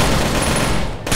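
Gunfire in the video game Rainbow Six: Shadow Vanguard, a loud dense burst of shots filling the whole moment and cutting off abruptly near the end.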